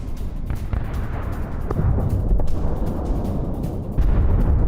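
Large explosion at an ammunition depot after an air strike, heard as a rolling, rumbling roar of blasts and booms with repeated low thuds, dense and continuous, rising slightly toward the end.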